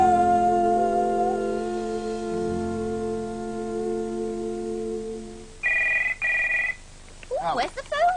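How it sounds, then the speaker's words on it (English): A telephone bell rings in two short bursts near the end, after a long sustained musical tone, followed by a voice speaking. "where's the phone?"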